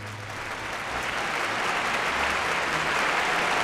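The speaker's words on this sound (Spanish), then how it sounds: "se escucharon los últimos aplausos" Theater audience applauding steadily before a costumed performance, a dense wash of clapping that swells slightly and holds even, with a low hum underneath.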